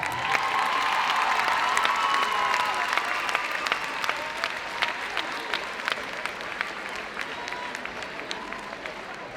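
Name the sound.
crowd applauding netball players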